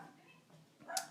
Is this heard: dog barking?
yes